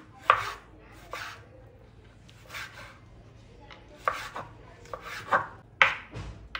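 A knife finely chops tomatoes on a board in irregular bursts of quick, close cuts with short pauses between them, with no voices.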